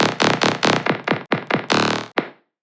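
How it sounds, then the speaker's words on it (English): A dry riddim bass synth layer in a heavy dubstep style hits in a series of about ten loud, rhythmic stabs. Each stab has a bright attack and a quick downward sweep, with short gaps between them, and it plays alone. "So we have 1 dry signal playing, which sounds like this."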